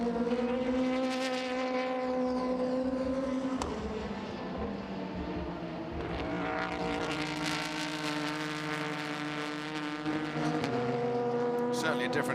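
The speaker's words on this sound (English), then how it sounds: "It's got that big sledgehammer of a thumping V8 sound" A loud Ford GT V8 race car engine at the 2017 24 Hours of Le Mans roars with shifting pitch, rising and falling through gear changes, under a voice speaking.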